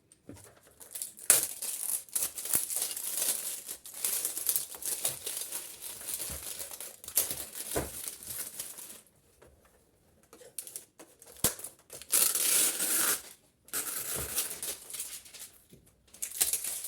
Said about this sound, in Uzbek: Birinchi upakovkasini ochamiz.